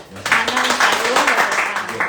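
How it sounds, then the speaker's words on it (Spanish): Crowd applause swells and carries on steadily, with a voice talking loudly over the clapping. "un aplauso a todos"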